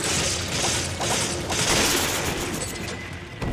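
A dynamite explosion in the co-op video game Resident Evil 5 gives a loud, dense blast that rolls on as a sustained rumbling roar for about three and a half seconds, with no voices over it.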